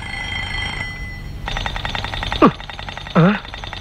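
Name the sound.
alarm clock ringing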